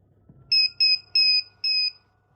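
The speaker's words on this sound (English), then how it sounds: "You'll hear 3 beep beep beep sounds." A DIY ultrasonic cutter kit, switched on at its power switch, gives a series of short, high-pitched electronic beeps in an even rhythm. Four are visible rather than three, with silence around them.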